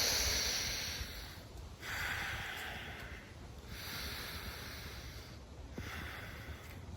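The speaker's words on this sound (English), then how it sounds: "So I'll start to stretch and breathe." Slow, deliberate breathing during a stretch, long airy inhales and exhales in a few drawn-out cycles, close and soft with no talk.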